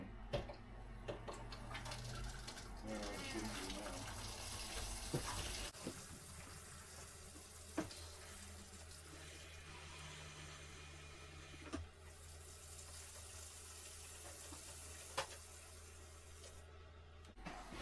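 Water running from a hot water tap in a small cabin: a steady hiss of flowing water with sputtering from air in the line, the flow changing abruptly partway through, plus occasional clicks and knocks.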